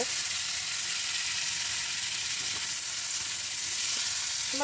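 Beef frying in a pan gives off a loud, steady sizzle that runs without a break, with faint clicks now and then from turning the meat.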